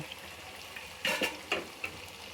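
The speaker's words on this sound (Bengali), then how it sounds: "মশলা রেডি তেল ঠিক আছে এখন আমি মাংসটা দিয়ে দিব" Duck meat dropped into hot oil with spices sets off a burst of loud sizzling, followed by several scraping stirs over a continuous fry hiss, close up.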